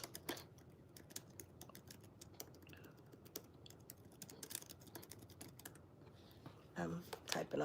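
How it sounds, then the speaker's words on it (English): Quiet clicking of fingers typing on a computer keyboard at a desk, irregular bursts of keystrokes ticking along steadily at low level, with a brief louder rustle and taps near the end and no speech. "I'm typing on my computer."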